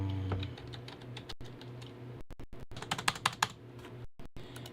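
Computer keyboard typing at a desk during an electronics repair session, with irregular clicks and short bursts of keystrokes, some louder taps near the end, close and alone with no talk.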